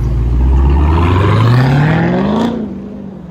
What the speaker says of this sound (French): il nous a fait écouter le moteur